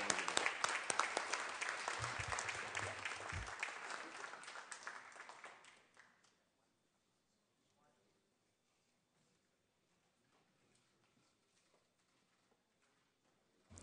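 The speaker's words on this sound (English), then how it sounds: "Let's give him a round of applause." Applause in a Senate chamber during a floor session: a dense burst of clapping for about six seconds that then stops, leaving a quiet room.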